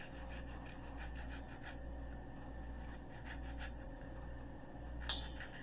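A lemon rubbed against a microplane grater, zest falling into sugar for lemon streusel muffins: steady, rhythmic rasping strokes in close succession, repeated scraping bursts with a brief pause, heard alone without talk.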